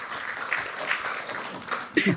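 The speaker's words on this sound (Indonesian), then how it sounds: "Terima kasih Bung Boyamin, kita berikan tepuk tangan" Brief studio audience applause for Boyamin during a televised panel discussion on anti-corruption efforts, a soft, moderate patter of clapping with a voice talking over it.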